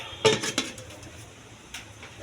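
A lid set down on a cooking pot of meat curry on a gas stove, a couple of sharp metallic clanks close by, then a quieter clink.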